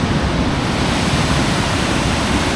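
Rushing water at Mallipadu waterfall: a dense, loud, continuous roar of falling water close by, with no other sounds.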